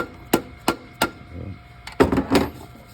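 A tap hammer strikes a car engine part during a Hyundai Tucson AC compressor replacement, three sharp evenly spaced knocks, a short pause, then a tighter cluster of louder blows, all close and dry.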